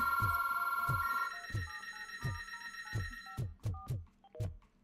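A telephone rings in the video game RoboCop: Rogue City, a steady electronic ring pattern at first, then repeated bright tones over faint rhythmic thumps, moderately quiet.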